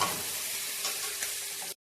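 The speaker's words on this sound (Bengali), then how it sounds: "মুখি কচু আর আলুগুলো কষানো হয়ে গেছে" Arum root and potatoes sautéing and being stirred in a pan for fish curry, giving a steady, close sizzle with a few scraping stir sounds throughout and no talk.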